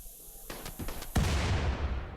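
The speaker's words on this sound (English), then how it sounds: "He's even outrunning the explosions." Explosions in the fantasy game RimWorld of Magic, medieval setting, during a battle against mechanoids: a few quick muffled bangs followed by a louder blast that rolls into a sustained rumbling roar, no talk.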